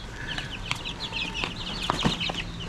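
Chicks clucking and peeping while pecking at their feed, a scatter of short, bright chirps and soft clucks over a faint background hum, close by and fairly quiet.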